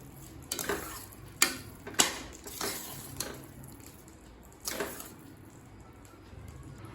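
A spoon works through broken wheat rava pongal in a pan, giving several sharp scraping taps against the metal and a soft squelchy stir, close and fairly quiet with no talk.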